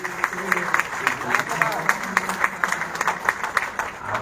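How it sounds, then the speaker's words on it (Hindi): Audience applause at a Hindi poetry recital in Chennai, a steady wash of many hands clapping throughout with rhythmic bursts, fairly close and sustained. "दूसरी बार में आपने तालियां बजाई"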